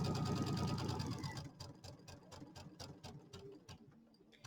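A sewing machine stitches quilt binding in a steady whirring run, then slows into a series of distinct, evenly spaced needle thumps as it creeps toward a stop; fairly quiet and close, with no talk.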